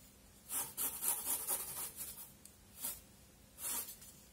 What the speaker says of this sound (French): je frotte pour enlever tout ce qui est la poussière et choses comme ça